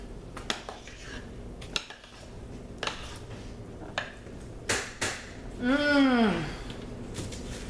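A utensil stirs a black African soap mixture in a metal pot, making close, irregular scrapes and knocks. Partway through, a squeaky, rising-and-falling rubbing whine stands out.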